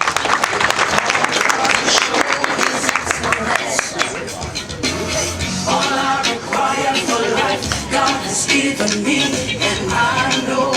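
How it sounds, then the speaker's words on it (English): An audience claps for Madam Wanyoike at the launch of a dental unit, with broad applause mixed with crowd chatter, voices and background music. The sound stays loud and continuous. "A big applause for Madam Wanyoike."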